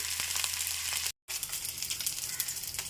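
Curry ingredients fry in a pan with a steady, close, bright sizzle that runs throughout, broken only by a brief silent gap near the middle.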